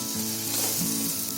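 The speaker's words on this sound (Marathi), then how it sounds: "आपण हे आता शॅलो फ्राय करतोय ना" Batter shallow-frying in a pan with very little oil, a steady close sizzle with faint shifting crackle as the pan is moved, with no voices.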